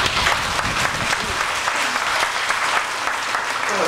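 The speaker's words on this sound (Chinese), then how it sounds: "我们现在热烈掌声欢迎他们。" Audience applause welcomes a church choir, a group ranging from middle-school age to adults, at a hymn concert. Sustained, dense clapping fills the space steadily from start to finish.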